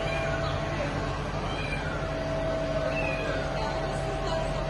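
A cat trapped up a pine tree meows several times, thin and fairly distant, buried in a steady loud background noise.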